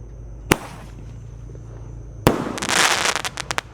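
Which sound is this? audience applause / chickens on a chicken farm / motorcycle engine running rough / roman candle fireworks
roman candle fireworks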